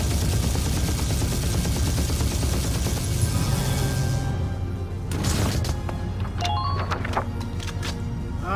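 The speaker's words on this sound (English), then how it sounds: "I'll shoot." Gunfire from the video game Valkyria Chronicles: a dense burst of rapid shots under a loud game soundscape, followed by a few separate sharp cracks and metallic rings that decay away.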